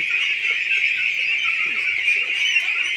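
Twenty-nine-day-old farm ducks, a dense continuous chorus of many high peeping calls from a flock close by, steady throughout.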